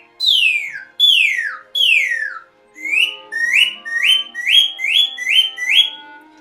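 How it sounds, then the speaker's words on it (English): A cocobolo wood birdsong whistle plays three long high-to-low slurs copying a cardinal, then a quick series of short rising chirps, loud, close and alone. "So here's this cocobolo Oriole grosbeak whistle."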